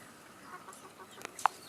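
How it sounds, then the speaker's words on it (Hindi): Chickens and a rooster on a rooftop coop, with faint scattered clucks and one brief, sharper call near the end over quiet background. "इसमें से एक मुर्गा बोलने लगा है"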